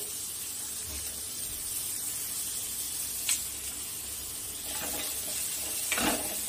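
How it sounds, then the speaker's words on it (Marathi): Finely chopped onion fries in a kadhai with a steady, quiet sizzling hiss, broken by a few brief sharper crackles and stirring sounds. "आता याच कढईमध्ये आपण 1 कांदा आहे असं छान बारीक चिरून याला फ्राय करून घेऊ।"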